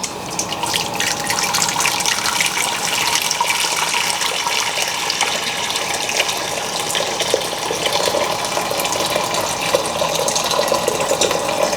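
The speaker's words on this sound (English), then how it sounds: "I'm going to go wash the rice" Six cups of rice are washed under a running tap, with a continuous, fairly loud splashing rush of water and small irregular sloshes and clicks from the grains and pot, and no talking.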